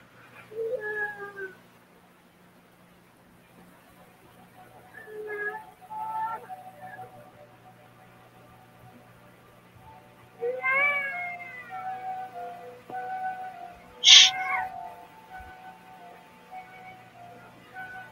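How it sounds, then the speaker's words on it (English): A cat gives several drawn-out, wavering wails that sound like a crying baby, in separate bursts with quiet gaps, rising to one sharp cry near the end. "it's like a cross between like a cat sound and a baby"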